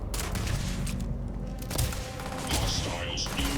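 Dense bursts of gunfire from the Starfield Shattered Space expansion crackle and thump over game music and effects, loud and continuous.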